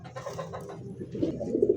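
A fancy American pigeon coos softly nearby, a few low, throaty rolling calls growing slightly louder toward the end.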